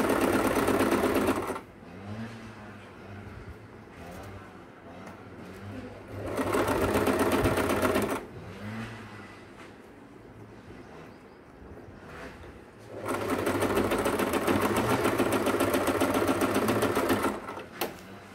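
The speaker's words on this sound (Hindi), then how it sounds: "कॉर्नर पे सिलाई लगा लेते हैं ऐसे फोल्ड करके" A sewing machine stitches the corners of a small frill doll dress in three loud, close bursts of fast whirring, with quieter handling noises between runs.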